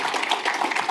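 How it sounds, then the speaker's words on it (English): Conference audience applause, a brief burst of dense clapping heard fairly close and steady for under a second. "Big round of applause for Ash"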